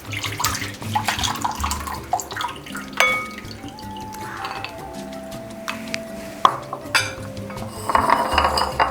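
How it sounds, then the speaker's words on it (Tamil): Soya chunks (meal maker) rinsed in plenty of water in a kitchen vessel, with sloshing, splashing and dripping plus light clinks of utensils, close and moderately quiet. "இந்த மீல் மேக்கரை சும்மா நிறைய தண்ணி ஊற்றி ஒரே ஒரு அலசு"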